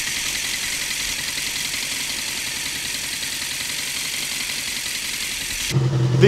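Motorcycle water pump heard through a mechanic's stethoscope gives a close, steady whirring drone of the idling engine, unchanging throughout, ending with a short bump and shift in tone as the probe moves.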